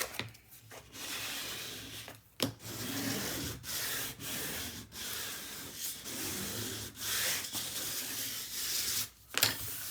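Paper being rubbed hard onto chipboard during an album build gives a steady, close scratchy rubbing with brief pauses and a few sharper scrapes.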